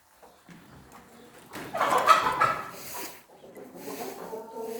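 Chickens cluck and squawk close by in an enclosed space, rising into a louder burst of agitated calls before settling to softer clucking.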